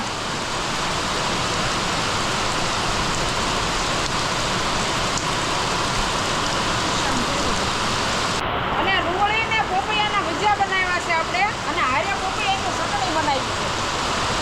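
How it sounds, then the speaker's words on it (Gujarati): Steady, dense rain hiss fills the whole stretch, loud and continuous, with someone talking over it in the latter part. "ભાઈ વરસાદ વધી ગયો"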